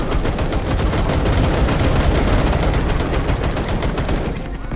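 Dense, continuous gunfire from the Vietnam War game Call to Arms, rapid overlapping shots and machine-gun bursts blending into a loud, unbroken battle roar with no pauses.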